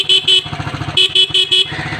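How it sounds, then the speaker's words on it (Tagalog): A motorcycle horn honks in short, loud beeps, two quick toots then three more, over the motorcycle's idling engine rumbling close by. "Ngayon, yung busina, subukan natin."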